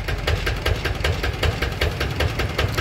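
A used engine runs under test with a steady, close, rapid rhythmic chugging and uniform pulsing knocks throughout, no voices present.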